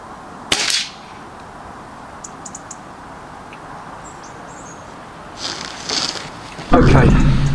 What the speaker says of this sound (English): This time I'm going to go for the next shot.